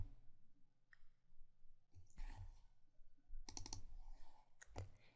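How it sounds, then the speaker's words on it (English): Computer mouse clicks at a desk during software work, a few sharp close clicks in small bursts with quiet gaps between them, some clustered in quick doubles. "I'm clicking Finish."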